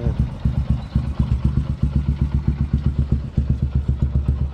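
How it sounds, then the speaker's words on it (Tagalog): A motorcycle engine warming up at idle, a steady close pulsing putter with regular low thumps and light mechanical clatter, heard alone throughout. "pinapainit ko na lang yung makina ni Mia."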